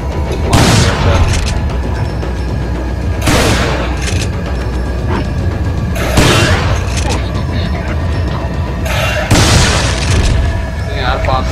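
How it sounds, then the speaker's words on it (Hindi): A shotgun firing in Resident Evil 4, with heavy booming blasts roughly every three seconds over a dense, loud game soundscape, and a voice talking over it. "शॉट गन यार पास से मारने के लिए बढ़िया, जितनी पास से मारेंगे उतनी तेज लगेगी"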